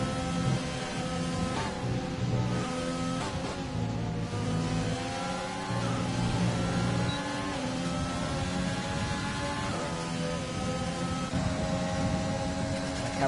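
F1 2020 race cars start the final lap at the British circuit, their high, rising engine whine revving and shifting steadily for the whole stretch, with other cars layered close behind.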